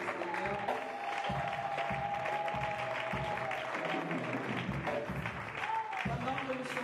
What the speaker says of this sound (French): Acclamons encore une fois pour le Seigneur.